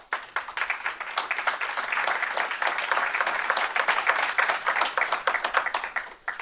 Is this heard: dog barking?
no